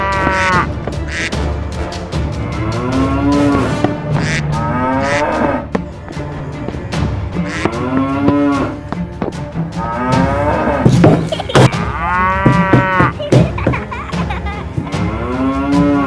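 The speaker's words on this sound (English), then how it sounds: "The Hereford cattle." Hereford cattle on a farm moo repeatedly, long drawn-out lowing calls following one another over a steady farmyard background, close and loud.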